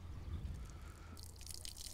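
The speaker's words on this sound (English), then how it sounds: "it's a case of just draining the water off." Water drips and trickles off a batch of fishing pellets that have just been pressurised in a bait pump, a soft, close, steady draining sound with no talk.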